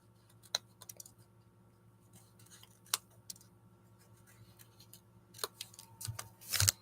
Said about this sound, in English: If I cut that in half